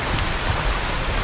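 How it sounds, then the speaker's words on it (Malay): Rain falls steadily on a boat during a fishing trip, a loud dense hiss of drops hitting surfaces, alone without voices. "Tapi betul-betul lah cuaca tak menyebelahi kami. Hujan."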